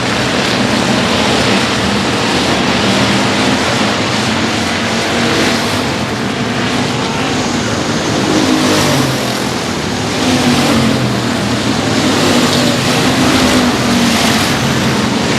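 Race cars roaring wheel to wheel around the oval at Sabine Speedway, a dense, continuous loud engine drone with shifting pitch as cars pass close, one car trailing smoke from its right rear tire.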